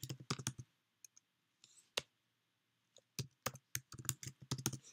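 Typing on a Mac computer keyboard: quick bursts of close, crisp key clicks with short pauses and a few isolated taps, quiet and without speech.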